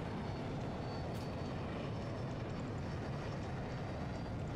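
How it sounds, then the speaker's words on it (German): An SU-57 Felon fighter jet engine in a video game killstreak gives a steady, loud, broadband roar that holds evenly throughout, with no voices. "Und jetzt ist noch Jet hinter mir."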